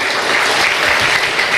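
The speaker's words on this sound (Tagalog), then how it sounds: "Malakas na palakpak sa ating Panginoon" Loud, sustained applause from a church congregation at a Sunday service, steady dense clapping filling the room with no talk over it.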